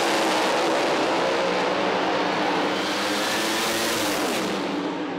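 Drag racing cars launching side by side in an eliminations race, a loud, dense roar that holds steady for several seconds before easing slightly at the end.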